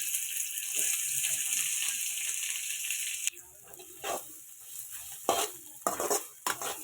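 Onions fry in oil with curry leaves and dried red chilies for lemon rice, starting with a loud, bright sizzle. It then drops to a quieter hiss broken by the clinks and scrapes of stirring in the pan.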